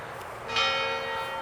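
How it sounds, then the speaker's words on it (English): A clock bell in a cemetery rings once with a clear metallic strike and rings on over a quiet outdoor background, moderately distant. "That's the bell from the clock dinging away."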